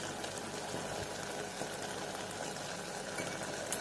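Broad beans boiling in a covered pot on a stove, giving a steady, dense bubbling and hiss that runs evenly throughout at moderate loudness with no talk.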